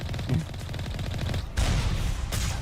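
Gunfire in the Mass Effect video game: a dense, rapid burst of shots that runs continuously, then a louder, heavier blast hits about halfway through, all close and loud with no talking.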